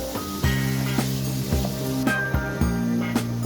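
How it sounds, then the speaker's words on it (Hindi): Chicken pieces frying in a pan with salt for a red-sauce pasta, a steady close sizzle with repeated soft thumps and scrapes from stirring, no talk. "और तब तक पकाना है जब तक चिकन का कलर चेंज ना हो जाए।"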